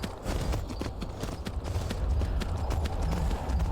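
Horse hooves clip-clop steadily in the Skyrim video game, a brisk continuous rhythm of hoofbeats over a busy game soundscape, fairly close and even.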